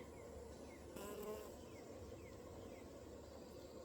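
Honeybees in an opened hive drone as a soft, continuous buzz, with a brief louder burst early on and individual bees occasionally passing close by.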